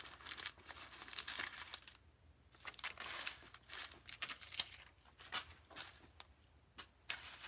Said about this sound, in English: Pulling out some of my stickers in here